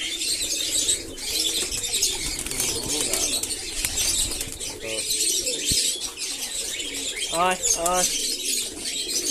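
Pigeons coo softly during morning feeding over a constant noisy background, with a few brief wing flaps and scattered chirps; a voice talks intermittently.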